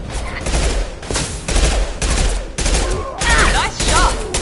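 Gunfire in a Mass Effect 2 firefight: dense, rapid volleys of shots crackling continuously in loud bursts, with brief gaps between flurries and a voice calling out faintly beneath the combat.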